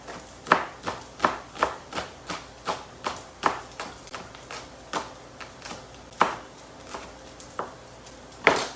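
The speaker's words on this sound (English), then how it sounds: "so we're going to cut up some shallots" Shallots chopped with a knife on a cutting board, crisp steady knocks in an even rhythm, close and distinct with short pauses between bursts.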